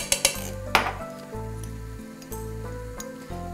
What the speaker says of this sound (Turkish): Her şeyi güzelce bir karıştırıyorum.